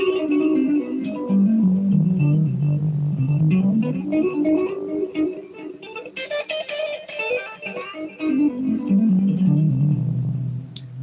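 A melodic instrumental lick played in the melodic minor sharp 11 mode, an effects-processed guitar line with gliding legato phrases, loud and continuous for about eleven seconds with no talking.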